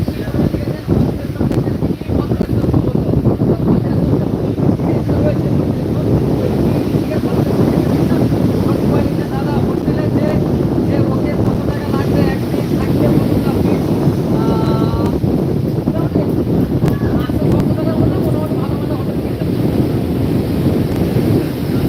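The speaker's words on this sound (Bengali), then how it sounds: "এই হচ্ছে দীঘার সমুদ্র বৃষ্টি ভেজা দীঘার সমুদ্র সৈকত" Wind and surf on Digha sea beach during heavy rain and thunder, a loud continuous roar of gusts buffeting the microphone over crashing waves, with people talking faintly at times.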